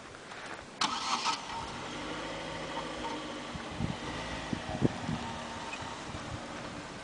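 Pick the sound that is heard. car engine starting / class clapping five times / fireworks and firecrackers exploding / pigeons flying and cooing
car engine starting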